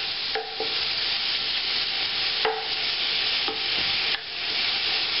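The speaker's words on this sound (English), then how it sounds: "We're just going to fry this off till it gets nice and brown and crispy" Bacon frying in a pot, a steady loud sizzle and crackle with several sharp scraping stirs of a utensil against the pot at irregular intervals.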